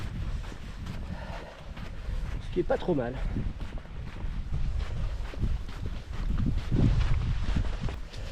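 A north headwind buffets a microphone on a coastal hike toward Île Grande, rumbling in low gusts throughout while someone speaks in French over it.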